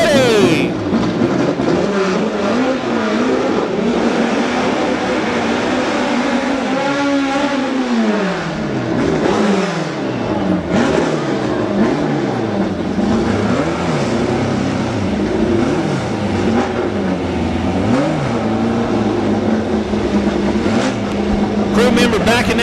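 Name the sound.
race cars doing burnouts at drag race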